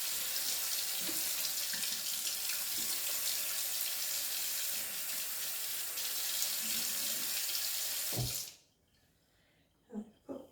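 A kitchen tap runs steadily into the sink for rinsing, a loud continuous rush of water that stops abruptly near the end, followed by a few faint clatters in the quiet.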